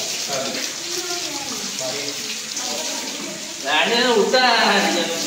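Hot spring water at Unhale near Rajapur runs steadily, a continuous splashing flow that grows louder near the end, with people talking over it.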